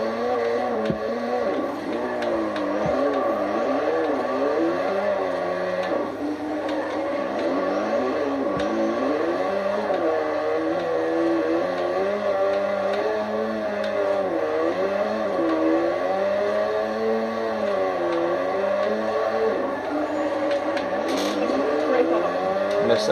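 A car drifting in the Forza Horizon racing game, heard from cockpit view: a continuous engine drone that rises and falls in pitch as the revs swing through long slides, steady and close.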